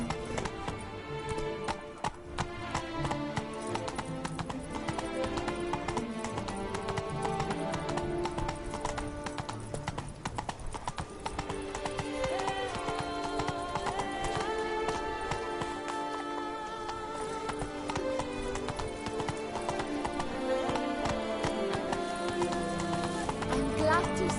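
Hooves of Roach, the horse in The Witcher video game, clip-clop steadily beneath a dense, continuous bed of orchestral game music, with a brief voice and an occasional whinny mixed in.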